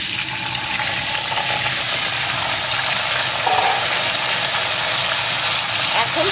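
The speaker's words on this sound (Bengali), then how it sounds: "এখন এই তেলের ভিতরে ফুলকপিগুলোকে দিয়ে দেব।" Cauliflower pieces fry in hot oil in a pan where fish was just fried. A loud, steady sizzling hiss holds evenly from start to finish.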